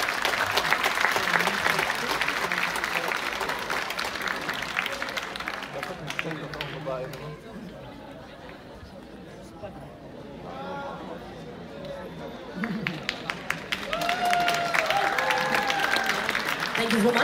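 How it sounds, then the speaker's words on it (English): Audience applause fills a cruise ship theater during a pageant, loud sustained clapping and crowd chatter that dips midway, then swells again with renewed clapping. "Let's give him a round of applause"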